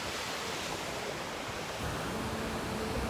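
Ocean surf rolls onto a South Florida beach, a steady broad wash of breaking waves heard close, with no voices.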